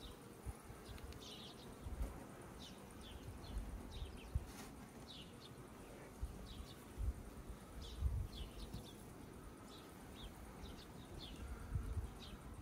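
Honey bees buzz around beehives at an apiary in summer, a steady diffuse hum with faint insect and bird chirps scattered over it and no talk.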